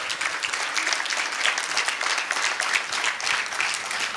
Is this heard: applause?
yes